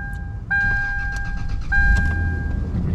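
A frozen car's engine cranks and starts in winter cold, nearby. Steady electronic chime tones sound over it, and a low engine rumble rises toward the end.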